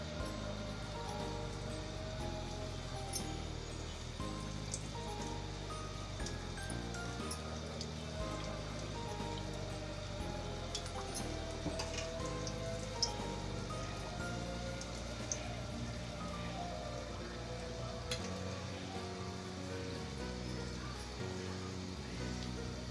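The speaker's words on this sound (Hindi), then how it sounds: "और इसमें टिक्कियाँ डालेंगे। तेज़ आंच पर मत डालिएगा, बिल्कुल दरमियानी आंच पर इसे पकाएंगे।" Sweet tikiyan fry in hot oil in a pan over a medium flame, giving a dense, steady crackling sizzle that sounds like rain and runs close and continuous without pause.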